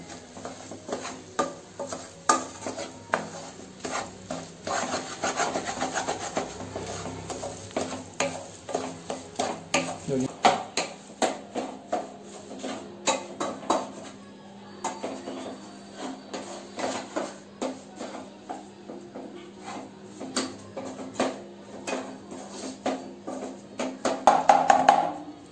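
A spoon stirs an egg and vegetable fry in a pan, producing repeated scraping and clinking strokes in an uneven rhythm over a soft sizzle, close and fairly clear, with no talking.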